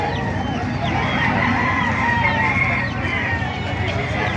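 Several chickens cluck and a rooster calls amid a busy, noisy market in Baliuag, Philippines, with steady background commotion throughout.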